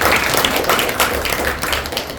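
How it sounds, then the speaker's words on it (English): A round of applause rises from the audience at a Toastmasters club meeting, a busy wash of many hands clapping at once that stays steady and fades slightly toward the end. "So please, everyone, give a huge round of applause to this entire program."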